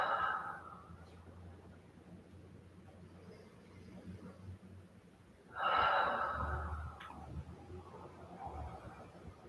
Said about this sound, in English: here we're going to take 3 deep breaths